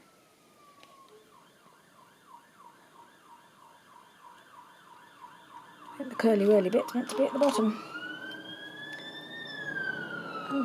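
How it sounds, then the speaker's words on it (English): A passing fire engine siren wails in rapid cycles, swelling louder partway through and then sliding into a long rising and falling tone. A person talks over it near the start. "That's a fire engine zooming by."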